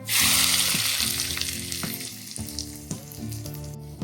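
Pickle masala hitting hot oil erupts in a loud, bright sizzle that gradually settles, with a steady tone and faint clinks running beneath it.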